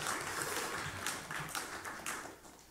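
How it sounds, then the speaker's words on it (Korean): A church congregation applauds during a Sunday worship service, a soft, steady wash of many hands clapping that sounds distant and fades toward the end. "이분들이 올 한 해도 영일간에 강건한 모습으로 성전을 출입할 수 있도록 격려의 박수를 보내드리겠습니다"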